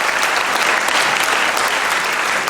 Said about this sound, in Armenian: Եկեք ծափարենք Արամ MP3-ին